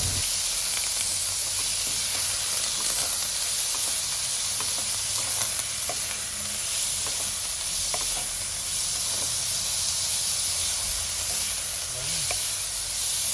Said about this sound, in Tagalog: gigisayin naman natin tong giniling